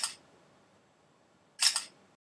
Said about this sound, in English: So now let me take a selfie.